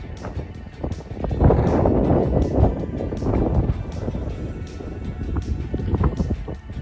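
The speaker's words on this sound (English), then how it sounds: "Come up the downs again on a super windy day. Very blowy today." Strong gusty wind buffets the microphone up on open downs on a blowy day, a low rumbling roar that swells and eases in gusts.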